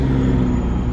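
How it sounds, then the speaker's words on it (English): BMW cars rolling past at a busy Florida car meet turned takeover, a steady loud low engine rumble and road roar holding throughout without a break. "Got more BMWs coming through."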